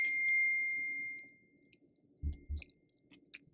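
A phone text message notification rings out as one sustained chime at the start, followed by quiet chewing and a couple of soft thuds.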